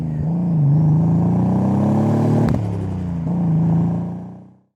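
A Datsun 240Z idling steadily close by, a deep even rumble that swells slightly, then fades out at the end with a brief clatter midway.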